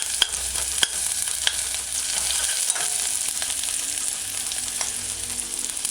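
Chopped onions sauté in a pan for a vegan mushroom tomato stew, a steady close sizzle punctuated by sharp clicks and scrapes of stirring, with no talking.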